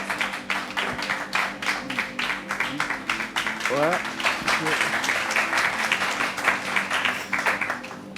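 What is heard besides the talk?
audience applause on a TV show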